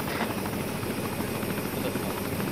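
A helicopter in the Arma 3 military video game drones with a continuous rotor and turbine roar, loud and close, with faint voices mixed underneath.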